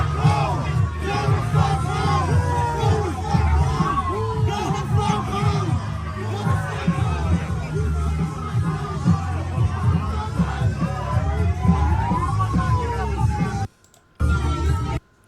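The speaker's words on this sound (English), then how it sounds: "Basically what the crowd's doing is opposing Christ, the Lord Jesus Christ." Loud crowd noise at a street protest, dense shouting and chanting voices overlapping continuously, with a brief cut to near silence near the end.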